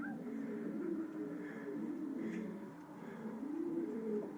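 A pigeon coos softly from a rooftop at night near a loft, low throaty calls rolling in a repeated rhythm over a quiet, faint background.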